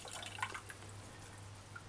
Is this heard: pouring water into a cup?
yes